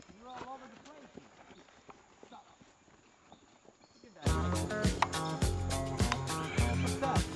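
Hooves clip-clop during an English riding lesson in Belize, steady and fairly near at first, then a loud burst of music comes in halfway and largely buries the hoofbeats.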